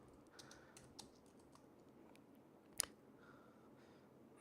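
A git push command typed on a computer keyboard, sparse quiet key taps spread over a few seconds with one sharper click partway through, close and faint in a quiet room.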